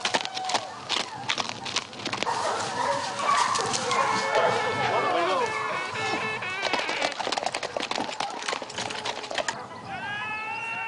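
A pack of hunting hounds bays continuously during a wild boar hunt in Touraine, a loud overlapping chorus of yelps and howls with a horse's hooves and human speech mixed in.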